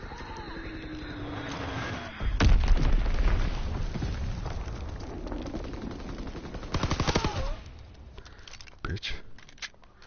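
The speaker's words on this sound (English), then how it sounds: "Dropping Fritz X bomb." A heavy boom from a Fritz X bomb explosion in a WWII shooter, loud and close, surrounded by rattling machine-gun bursts and further blasts, with voices talking over the battle.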